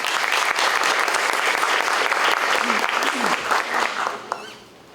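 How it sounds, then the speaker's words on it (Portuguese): Audience applause at a public administration integrity seminar, a full, sustained roar of many hands clapping that holds steady, with a voice briefly audible, then tapers off near the end. "Uma salva de palmas também para ele."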